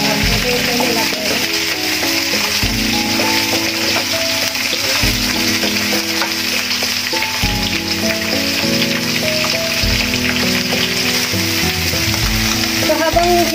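Stewed pig feet adobo sautéing in a pan, a loud, dense, continuous sizzle like heavy rain, close up throughout, with a tonal hum underneath and no clear speech.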